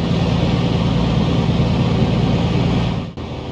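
Steady, loud engine drone from a Piper PA-24-250 Comanche during a ground run-up in Microsoft Flight Simulator, continuous and unbroken before a brief dip near the end.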